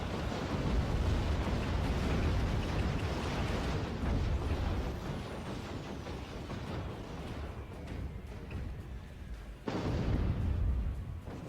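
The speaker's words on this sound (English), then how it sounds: "Mortar fire coming in, going to destroy the artillery sentinel" Mortar shells exploding in a real-time strategy battle, a dense stretch of heavy rumbling blasts and debris noise that eases off before another loud impact near the end, with no talking.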